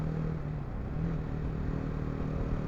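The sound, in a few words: BMW G310 GS motorcycle engine on the motorway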